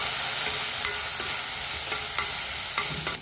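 Vegetables with green peas frying in a hot pan for Szechuan fried rice sizzle steadily while a utensil stirs them, giving sharp scraping clicks roughly every half second with no talk.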